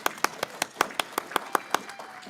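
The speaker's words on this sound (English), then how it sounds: "Now we can clap." Clapping from a church congregation: about ten sharp, evenly spaced claps in a steady rhythm, fairly close and clear, with no talking over them.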